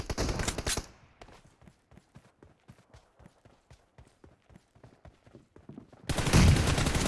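AKM and M416 rifle fire in a video game: a loud opening burst, a long quieter stretch of rapid, evenly spaced shots, then a loud burst again at the close.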